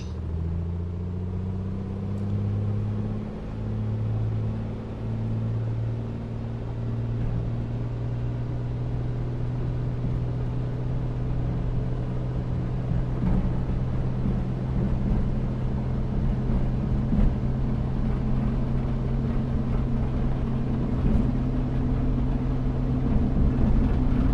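A2A Piper Comanche piston aircraft engine at takeoff power in a flight simulator, a steady close drone with a deep low hum that grows slightly louder as the run continues, alone with no talk.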